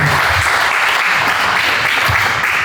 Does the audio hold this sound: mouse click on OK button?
no